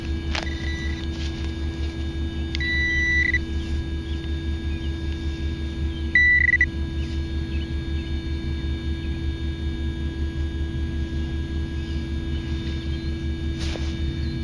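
Short high beeps from a Whites V3i metal detector sound a few times at irregular intervals over a constant low electrical hum.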